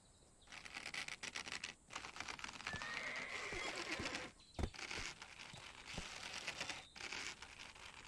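A horse in the online game Black Desert Online gives a brief whinny early on, fairly quiet and mixed with clicking and rustling game sounds, with no talking.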